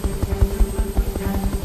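A military helicopter flies during a training exercise, its rotor beating out a loud, steady thumping pulse throughout.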